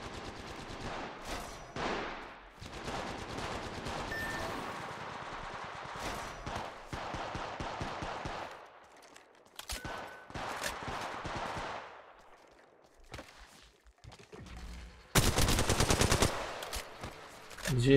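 Video game gunfire aimed at the player: loud bursts of automatic fire and single shots come in uneven clusters, with a brief lull midway and a heavy close volley near the end.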